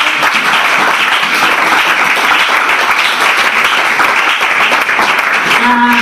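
A church congregation applauding to acclaim the Lord, loud sustained clapping from a large crowd that fills the room evenly from start to finish, with a brief tonal sound near the end.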